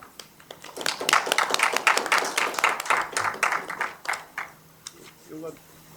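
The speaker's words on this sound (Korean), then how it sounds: "하상복 교수님을 큰 박수로 모시겠습니다" Applause from the audience at an academic education policy forum welcomes a university professor to the panel, with scattered claps building into a few seconds of steady moderate clapping that tapers off. A faint voice comes in at the end.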